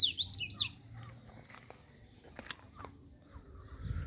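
A mateirinho bird chirps in short, bright bursts outdoors, loudest near the start, then sparse faint calls at medium distance over a quiet rural background.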